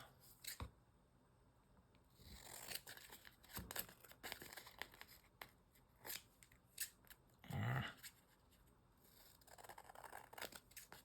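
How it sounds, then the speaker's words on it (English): Scissors snip paper for a handmade Christmas journal, with several separate cuts spread unevenly across a quiet background and some light paper rustling between them. "But I need to cut a little bit of it off."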